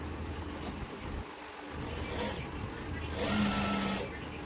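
A sewing machine stitches the belt strips of a bell-bottom pant, running as a steady mechanical whir with a louder burst near the end, close by and continuous.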